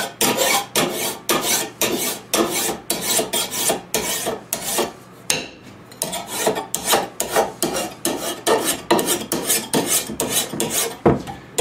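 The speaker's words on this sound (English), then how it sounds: "I'm doing this with the single cutting edge on the axe file" The single cutting edge of an axe file rasps back and forth along a trapping tool's steel blade in loud, rhythmic strokes, with one brief pause midway and no talk.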